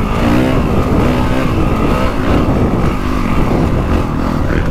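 Honda CRF450 Works Edition dirt bike engine running loud and close with steady, continuous revving as the rider works through rutted corners, no voices heard.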